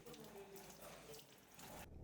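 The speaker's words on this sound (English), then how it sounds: "Wounds can also be washed under running water." Running tap water pours steadily into a sink for wound washing, a continuous close splashing hiss that cuts off abruptly near the end.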